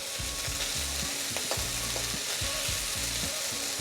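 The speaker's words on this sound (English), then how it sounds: "You can also just press it down a little bit so that they get a nice sear on the beef." Beef sears loudly in a hot pan for beef fried rice, a dense continuous sizzle broken by rhythmic scraping and pressing strokes of a spatula; no speech.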